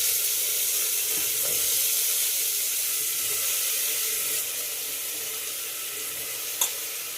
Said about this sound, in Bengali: এবার হাতে মেখে রাখা